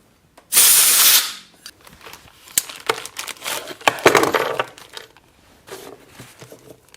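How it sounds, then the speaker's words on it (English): Compressed air blasts through a hole in a Honda front brake master cylinder during a rebuild, one loud sharp hiss followed by small clattering and handling noises nearby. "Just double check that this hole is completely clear. We do not want a problem. Blow that out one more time."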